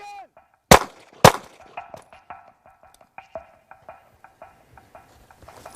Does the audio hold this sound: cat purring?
no